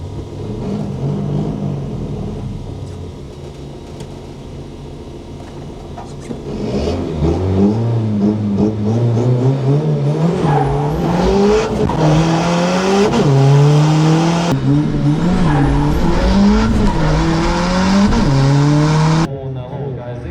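Race cars launching together at a race start with engines revving hard and climbing through the gears, loud and close, with rising tones and a shout of voice early on.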